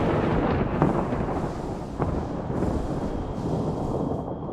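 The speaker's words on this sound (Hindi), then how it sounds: "कुछ ही देर में जोर की बिजली कड़कने लगी।" A deep, rumbling crash of thunder rolls on with a low roar, strongest near the start and sustained throughout.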